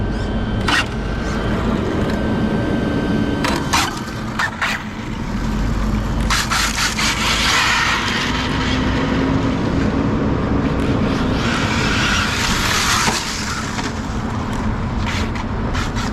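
An Arrma Infraction RC car on cheap replacement wheels spins them outdoors, a whirring electric motor whine with gritty rubbing and scraping, rising and falling in bursts over roughly sixteen seconds, fairly close.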